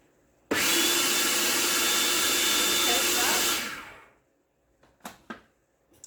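An electric hand mixer whirs loudly for about three seconds while pecan pie filling is blended, then winds down to quiet, followed by a couple of faint clinks.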